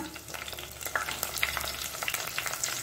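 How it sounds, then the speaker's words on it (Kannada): Two sprigs of slightly dried curry leaves hit hot oil while a South Indian prawn dish is cooked, giving a steady close crackling sizzle with small popping spatters and light stirring throughout. "ಕರಿಬೇವಿನ ಸೊಪ್ಪು, ಒಂದು 2 ಎಳೆಯಷ್ಟು ಹಾಕೊಳ್ಳೋಣ."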